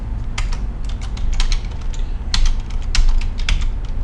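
Fingers typing a command on a computer keyboard, a quick uneven patter of close, crisp key clicks in short bursts over a low steady background hum, with no talking.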